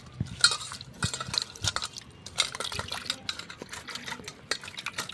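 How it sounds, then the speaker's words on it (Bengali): Mangoes being washed by hand in a bowl of water, with irregular splashes, sloshing and light knocks of fruit against the container, fairly close and quiet, with no talking. "বন্ধুরা আমগুলো ধুয়ে আমি ছাড়িয়ে নেব। প্রথমে ভালো করে ধুয়ে নেব।"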